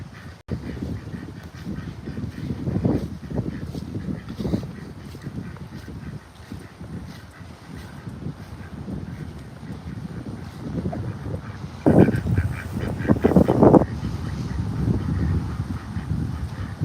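Several ducks or geese quacking and honking in rainy weather after a storm, a string of calls at moderate distance, some louder bursts, over steady background rain and wind.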